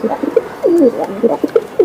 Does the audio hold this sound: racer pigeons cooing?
yes